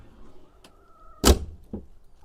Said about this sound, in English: I'm going to leave the cab door open.